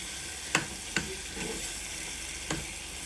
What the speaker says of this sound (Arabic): هنزل بمعلقه كبيره من الصلصه وقلبي قلبي قلبي